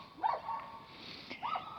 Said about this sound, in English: this dog, which you hear very vividly, is a huge dog